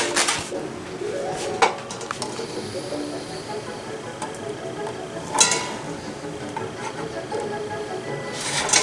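Eggs set carefully into the bottom of a pan for deviled eggs, a few hard clinks and taps against the pan scattered over a hissing background, with sharper knocks near the start, middle and end.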